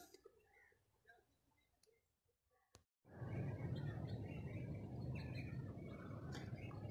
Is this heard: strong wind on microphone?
no